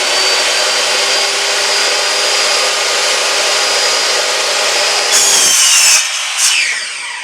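Power saw cutting through PVC pipe for a Halloween cemetery fence, a steady loud whirring grind that runs for several seconds, then cuts off abruptly with a brief final rasp.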